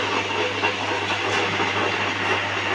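A wet grinder working through soaked lentils makes a steady, loud mechanical drone with a low motor hum and a constant rushing hiss, close by and unbroken.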